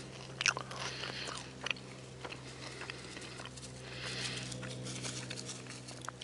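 Someone bites into a crunchy three-cheese grilled cheese sandwich cooked on a cast iron griddle at a campsite, giving close, crisp crunches followed by quiet chewing.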